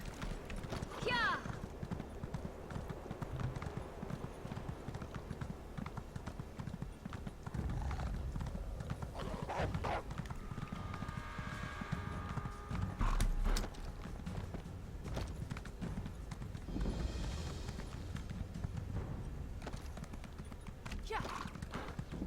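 Hooves clip-clop in a steady, rapid rhythm as a horse gallops in the video game Elder Scrolls Online, mixed with game-style effects and occasional creaks and whinnies.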